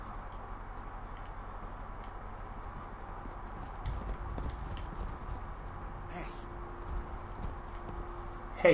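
In the Fallout 4 video game, horse hooves clip-clop in a faint, steady walking rhythm over low background noise, with a louder thump at the very end.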